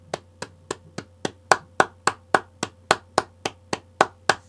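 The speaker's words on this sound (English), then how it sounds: "you definitely deserve a round of applause" Evenly spaced claps ring out one after another, about seventeen sharp hits in a steady rhythm over a faint low hum.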